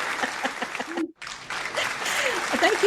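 Studio audience applause, a dense wash of clapping with a brief drop partway through before swelling back, steady and fairly loud throughout.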